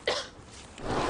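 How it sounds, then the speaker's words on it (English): A single harsh cough near the start, followed by a rougher throaty rasp at the end, close and fairly loud. "that cough looks pretty bad"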